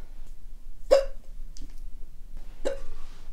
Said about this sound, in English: I have not experienced having hiccups when trying to start a video before.